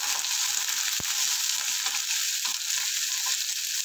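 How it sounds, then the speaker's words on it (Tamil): Curry leaves, onion and garlic fry loudly in a pan, a dense, constant hiss close up with one sharp knock of a utensil near the start and no voices. "கருவேப்பிலை வெங்காயம், பூண்டு எல்லாம் கொஞ்சம் நல்லா வதக்கணும்."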